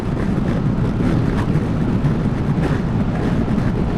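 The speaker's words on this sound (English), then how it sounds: "Ooh, it's windy" Wind rumbles and buffets steadily on a scooter riding at nearly 60 mph, a low roaring rush with gusty swells, loud and continuous with no voices.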